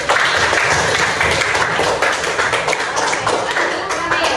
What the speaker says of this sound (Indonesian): Tepuk tangan lagi nak.